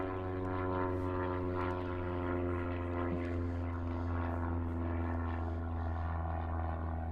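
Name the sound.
airplane flying by overhead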